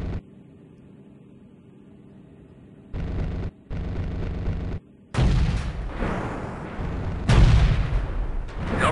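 Artillery fire mission explosions in the helicopter video game Comanche 3 Gold, several loud booming blasts in quick succession, each with a heavy low rumble and abrupt cutoffs, near and powerful.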